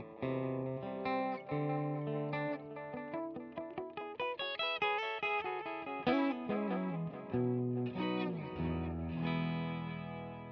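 An electric guitar runs through a Wampler Ethereal delay and reverb pedal set to quarter plus dotted-eighth repeats, playing a melodic phrase of plucked notes that trail into echoes and a washy tail, heard alone.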